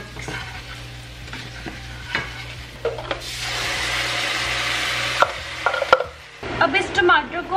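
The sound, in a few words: mixing spiced tomato masala in a pan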